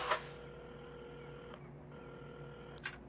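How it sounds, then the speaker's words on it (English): A telephone being dialed in the video game Assemble with Care, faint steady electronic tones with soft clicks at the start, middle and end, heard alone without talk. "while at the counter, Carmen had started dialing the phone"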